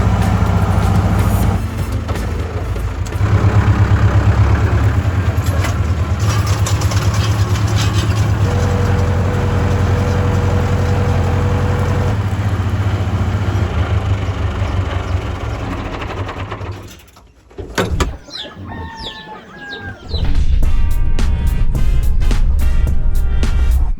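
A tractor engine runs loud and steady with a deep, continuous rumble for most of the stretch, dips briefly, then comes back at full strength.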